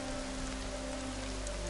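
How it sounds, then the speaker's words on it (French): Rain in the video game Horizon Zero Dawn, a steady even hiss of falling drops with a low constant hum beneath, no voices. "La pluie aussi va être ton ami dans ce jeu."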